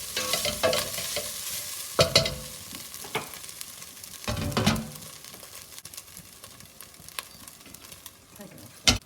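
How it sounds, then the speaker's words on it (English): Mince for a simple bolognese sauce sizzles steadily in a pan while a utensil scrapes and stirs it in intermittent strokes, close and moderately loud. "now that we've got everything all fried up, all the mince fried up"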